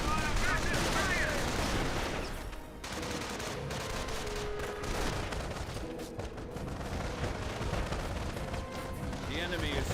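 Machine gun fire from emplacements in a Company of Heroes battle, dense bursts of gunshots layered over rumbling explosions and battle noise, loud and continuous, with faint unit voice lines mixed in.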